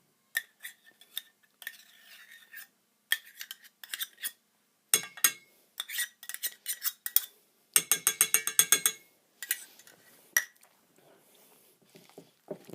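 A utensil clinks and scrapes against a bowl while mayonnaise is mixed into other ingredients, giving bursts of quick rhythmic clicks and taps separated by short pauses, close and fairly quiet.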